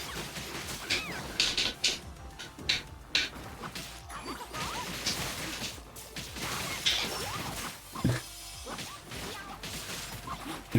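A cat character meows repeatedly in a fighting video game, the calls mixed with crashes, hits and mechanical effects amid busy game sound.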